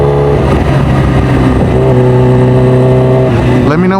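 A Kawasaki Ninja H2R motorcycle with a 326 hp engine, ridden without a quick shifter, revs hard through gears in a loud close-up run of rising engine notes with abrupt changes in pitch.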